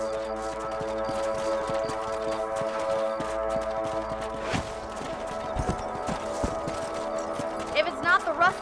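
Horses trot across open country in Red Dead Redemption on PS3, their clip-clop hoofbeats steady beneath a bed of game music, with a brief neigh near the end.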